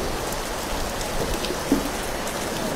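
Steady rain pours down outdoors during a Buddhist fish-release ceremony led by monks, a dense, even hiss of drops with one brief closer splash and no talking.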